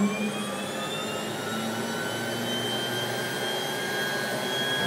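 Pratt & Whitney PT6 turboprop engine spooling up during a ground run: a steady loud turbine whine with several rising tonal lines over a broad rushing roar, close and continuous, with no voices.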